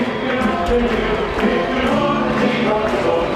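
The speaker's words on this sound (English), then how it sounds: "the crowd celebrates, and the Parramatta fans can afford to do that" Stadium crowd of Parramatta Eels rugby league fans celebrating a big win over Melbourne Storm, a sustained loud roar and cheering from a large crowd, broad and continuous.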